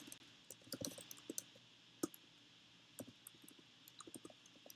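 Keys tapped on a computer keyboard while code is entered, a quiet run of irregular clicks with brief pauses, close and alone.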